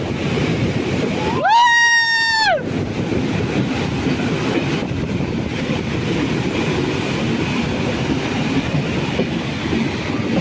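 The Vasco Express rolls along the rails in Goa during the monsoon with a loud, constant rumble and rattle heard up close. A sustained horn blast sounds early on, then the steady roar of the train continues.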